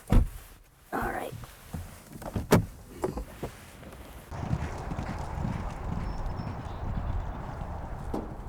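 Racehorses' hooves clip-clopping on a training track during a morning workout, a few sharp nearby hoofbeats at first, then a steadier rushing stretch of movement and background noise.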